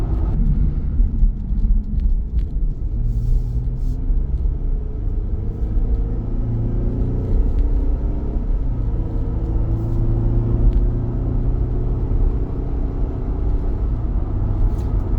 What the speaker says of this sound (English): at 60 plus miles an hour, they seem to be pretty decent going down the road.